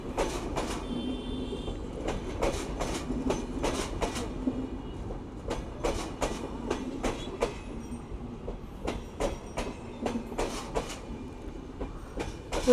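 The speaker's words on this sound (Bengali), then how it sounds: "কত বড় ট্রেন রে" A large passenger train rolls past nearby in Bangladesh, the Padma service between Rajshahi and Dhaka, with a steady rumble and repeated rhythmic clacks of wheels over rail joints.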